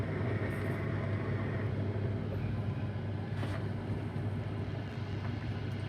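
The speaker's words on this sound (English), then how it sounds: "Let's get the old recirculation pump on." A homebrewing recirculation pump runs steadily after flame-out on a single-hopped ale batch, giving a continuous low hum and hiss at even loudness throughout, with no talk.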